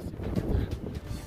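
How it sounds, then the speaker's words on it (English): Gusty wind above tree line on an Appalachian Trail fire tower buffets the microphone in low rumbling bursts, loud and close, with no voices. "since you're above tree line, it's really windy"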